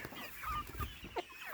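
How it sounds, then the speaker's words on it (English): Chickens cluck softly and intermittently in short, low murmurs close by, with a few brief higher clucks breaking through. "I just got caught up in these chickens"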